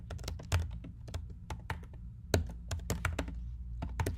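Rapid typing on a computer keyboard during a software setup, close and crisp, with irregular bursts of key clicks and a few heavier thunks, a brief pause midway, then more keystrokes.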